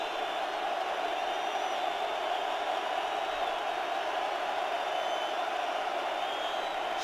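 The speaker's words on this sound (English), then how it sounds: "Crowd noise gets louder." A stadium crowd at an NFL football game, 49ers at Seahawks, produces a continuous, dense roar that holds steady and loud throughout, with no distinct voices standing out.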